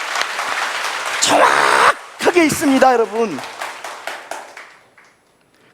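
A lecture audience claps hands in a brief burst of applause that quickly fades, with someone speaking to the crowd over and after the clapping.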